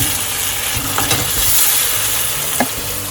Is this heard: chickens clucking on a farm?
no